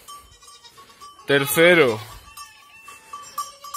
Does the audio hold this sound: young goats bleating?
yes